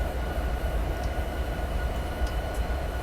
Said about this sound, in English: I can see the train starting to take off from us with all that momentum just pushing down on us